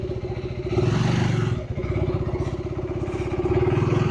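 A motorcycle starts off for a highway ride from Chittoor, its engine giving a close, steady, rapid throb that rises slightly as it pulls away.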